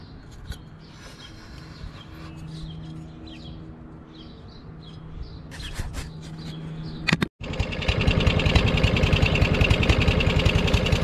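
A Craftsman push lawn mower with a Briggs 550EX engine idles quietly with birds chirping around it, then surges louder near the end yet stays at a low, limited throttle, running close and alone.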